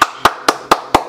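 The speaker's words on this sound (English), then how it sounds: "go ahead, clap it up." Five sharp hand claps sound in an even, quick rhythm, each a crisp, loud slap close by with a short decay before the next.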